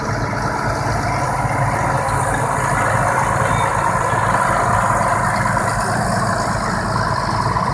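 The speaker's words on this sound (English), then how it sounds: "IH Quadtrac 450, 467 horsepower." An IH Quadtrac 450 tractor of 467 horsepower on rubber tracks runs steadily at an outdoor tractor show, a loud continuous low engine drone with no speech.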